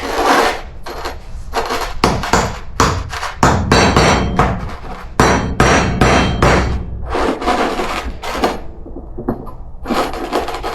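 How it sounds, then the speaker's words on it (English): A light hammer taps a seal into place during a slip yoke eliminator install on a 242 HD transfer case, giving a quick series of sharp, close taps in irregular bursts with brief pauses between them. "So use a light little hammer first."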